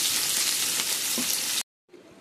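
Loud, steady sizzling of fennel seeds and chopped onions frying in hot oil, which cuts off abruptly and then resumes more quietly.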